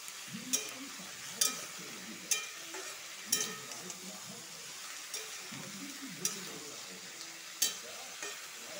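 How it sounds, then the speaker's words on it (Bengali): Mixed vegetables with salt and turmeric stirred in a pan over a low, steady sizzle, with periodic sharp clinks of a spoon against the metal rim. "এটা ভালো করে নাড়াচাড়া করবো।"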